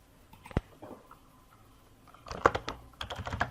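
Keys tapping on a computer keyboard, a single sharp stroke early on and then a denser run of quick, close keystrokes toward the end, with quiet gaps between.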